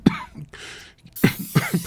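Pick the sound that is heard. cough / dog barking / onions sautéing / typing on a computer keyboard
cough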